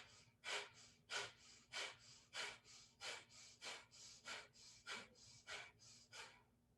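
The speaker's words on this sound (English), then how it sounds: "doing your last round of the Kapalabhati breathing" Kapalabhati yoga breathing, a run of about fourteen sharp, forceful nasal exhalations in an even quick rhythm, close and fairly quiet, with no talking.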